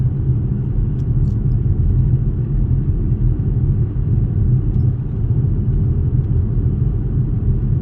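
Steady, loud low rumble of a car driving on a road during driving practice, continuous engine and road noise with no talking.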